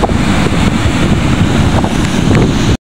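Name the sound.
sea waves and wind on a fishing boat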